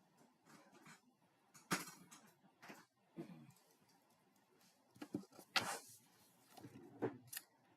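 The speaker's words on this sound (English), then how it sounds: "now we're going to take my good scissors." Scissors fussy cutting around paper shapes for a flower craft, a run of soft, close snips and clicks with irregular spacing and quiet pauses between cuts.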